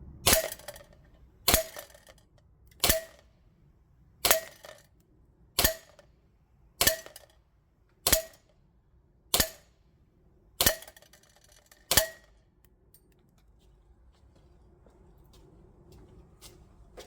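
Ten sharp shots from a Limcat Customs 4.3 Battlecat Hi-Capa airsoft pistol, fired in a grouping test at a target 10 meters away, ring out at a steady, roughly one-per-second pace and then stop, leaving quiet room tone.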